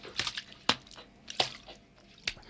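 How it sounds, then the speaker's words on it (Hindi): Water being bailed out by hand by a village priest at a pond, several separate splashy scoops and sloshes, close and fairly faint, spaced irregularly with quiet gaps between them. "और पंडित जी लगे फिर पानी उलीचने"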